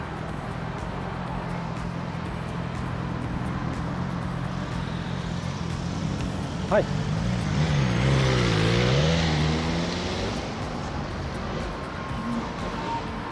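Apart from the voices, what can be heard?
cars in city traffic passing a Xiaomi electric scooter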